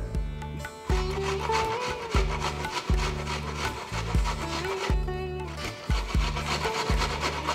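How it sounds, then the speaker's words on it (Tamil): Gooseberries (amla) rubbed on a small kitchen grater, making steady, close rasping strokes in a regular back-and-forth rhythm, about ten strokes with short gaps between them and no speech. "இது நல்லா இந்த மாதிரி ஒரு சின்ன கிரேட்டரில் நம்ம கிரேட் பண்ணி வச்சுக்கலாம்."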